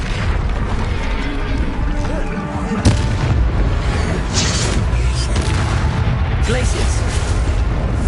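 Bombarda explosion spells in Hogwarts Legacy: heavy booming blasts and rumbling combat effects fill the scene loudly and continuously, with a sharp impact near the middle, while a voice talks over the action.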